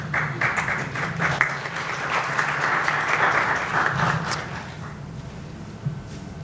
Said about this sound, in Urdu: اگر تالیاں مارنیاں نے تو اچھے طریقے نہ مارنیاں نے